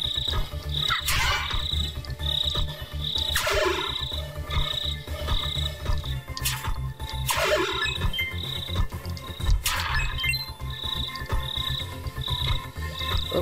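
Crickets chirp in the video game Shantae: Risky's Revenge, a steady high-pitched trill running throughout over a low game soundtrack, with loud swooping effects recurring every couple of seconds.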